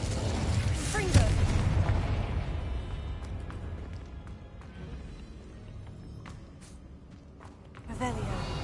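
Confringo blasting spell bursting in Hogwarts Legacy, a booming explosive hit early on followed by rumbling decay and scattered crackles, with another swell of blast noise near the end.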